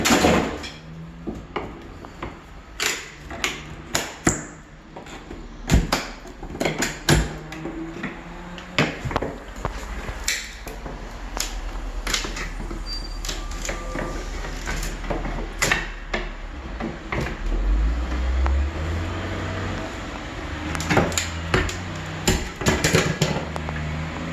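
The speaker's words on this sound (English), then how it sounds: "Pull the trim off." Wooden trim pried off a fairly new window frame set in brick after its paint line was scored, giving repeated sharp knocks, cracks and scraping thuds in irregular bursts, close by with no talk.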